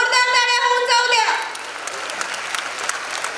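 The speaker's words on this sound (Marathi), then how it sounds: "सावित्रीबाई फुले यांच्या कार्यासाठी एकदा जोरदार टाळ्या होऊन जाऊ द्या." Applause from a school event audience, a Grade 4 Savitribai Phule tribute program: a voice carries the first second or so, then dense, loud clapping fills the rest, steady and close.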